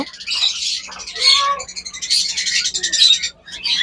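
Lovebirds in a breeding cage, a pair with one sitting on eggs, give off dense bursts of high, shrill chirping and chattering that run almost continuously, close and fairly loud, with a faint low hum underneath.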